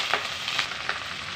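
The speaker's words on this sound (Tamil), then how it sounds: "லைட்டாக அப்படியே எண்ணெயில் போட்டு வதக்கிறது" Drumstick leaves stirred into hot oil with a tempering, a close, steady sizzle and frying hiss with a few soft stirring scrapes over a short stretch.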